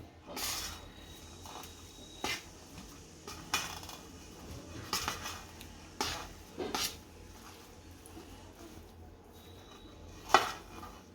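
A spoon stirs nutmeg into a ghee ladoo mixture in a pan, giving soft scraping and irregular metallic clinks against the pan at close range, with no talking.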